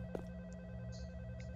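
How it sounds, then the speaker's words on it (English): A telephone rings in a horror video game, a brief, faint electronic ring over a low steady background hum. "phone ringing"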